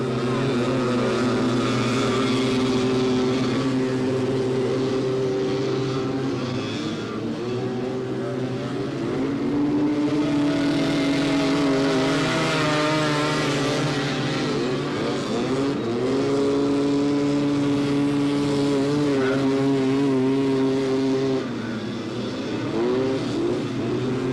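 200cc two-stroke three-wheeler race engines at a 1985 AMA National race in Miami, a continuous loud buzzing drone of several engines revving and shifting pitch as they pass, with no talk.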